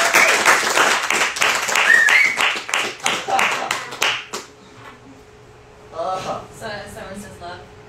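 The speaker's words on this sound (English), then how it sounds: "Give her a round of applause." A small audience gives a round of applause at a spiritual gathering, a few seconds of close, uneven clapping that fades out, followed by a quiet voice speaking.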